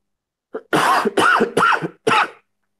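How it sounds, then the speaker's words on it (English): A run of four harsh, loud coughs in quick succession, close to the listener, with brief silences between them and no talking. "Pardon me for all the coughing today."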